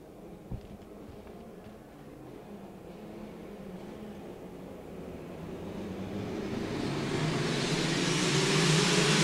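DD2 Rotax two-speed racing karts creep up toward the start line, their engines a low, distant hum that swells steadily louder and nearer across the clip.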